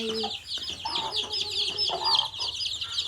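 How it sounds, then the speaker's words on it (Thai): Chickens clucking close by outdoors on a rural property in Thailand, a steady busy run of overlapping clucks and calls with faint bird chirps high in the background and no talking. "อันนี้ก็เป็นไก่"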